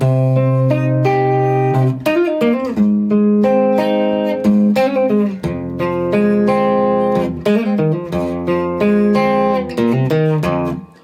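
Electric guitar plays a short melodic passage alone, with sustained chords and single notes shifting every second or so, loud and close.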